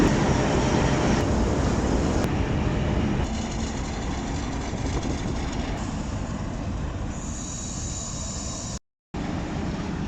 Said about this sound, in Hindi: लाहौर जंक्शन के प्लेटफॉर्म नंबर 9 पर खड़ी है 122 डाउन रावी एक्सप्रेस और आज इसको लीड करेगा HBU 8051।